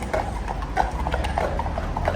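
Horses clip-clop past on a London street, a quick, regular patter of hooves on pavement, close and fairly loud over steady traffic and city hum.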